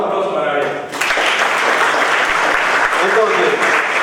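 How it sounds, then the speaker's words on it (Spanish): Audience applause for a speaker at a youth training session, starting abruptly after a brief spoken lead-in and then filling the room as steady, loud clapping to the end. "Otro aplauso para Gabriel"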